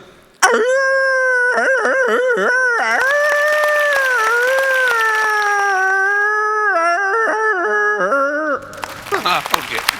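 A human voice mimics a jackal's howl, a long wavering wail that rises, holds steady, and trails off into breathy noise.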